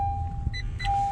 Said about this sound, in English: I'm going to go ahead and just turn the truck on.